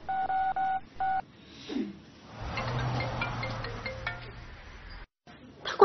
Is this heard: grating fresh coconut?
no